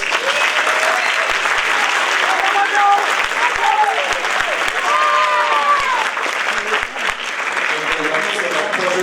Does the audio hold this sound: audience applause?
yes